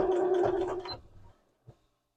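Sewing machine stitching an elastic-lined dress sleeve in a short, fast, close whirring burst that stops abruptly, followed by a single faint click.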